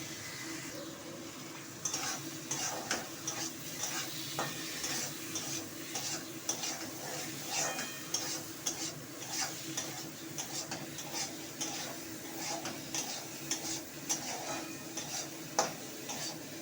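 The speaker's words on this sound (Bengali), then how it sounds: "মশলাটাকে আমি এইভাবে কষাতে থাকবো" Spice paste for a Bengali katla fish curry is stir-fried in oil, with a spoon scraping and tapping the pan in a brisk, continuous rhythm over a soft, steady sizzle.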